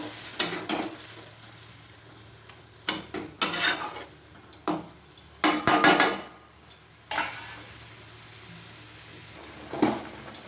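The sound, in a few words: stirring the egg posto mixture in a pan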